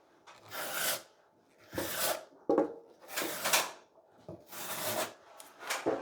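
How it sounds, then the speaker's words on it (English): Repeated rasping scrapes of a trowel spreading plaster into a sheetrock corner, about five strokes in a steady rhythm with short pauses between, close up. "I'm just putting it on the edge of this trowel so I can get into the corner."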